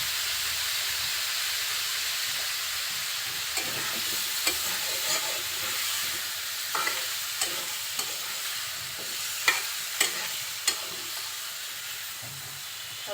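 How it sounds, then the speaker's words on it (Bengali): Pointed gourd and potato pieces with small shrimp stir-fried in oil-rich masala, a steady close sizzle and hiss running throughout with a few sharp spatula scrapes and clinks toward the end. "সব কিছু দিয়ে খুব ভালোভাবে নাড়াচাড়া করে কিছুক্ষণ কষিয়ে নিব।"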